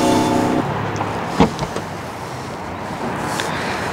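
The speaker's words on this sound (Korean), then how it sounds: "그럼 이제 트렁크를 열어보도록 하죠" The trunk of a BMW i4 eDrive 40 electric sedan opens with one sharp latch clunk, followed by a few faint clicks over a low background hum.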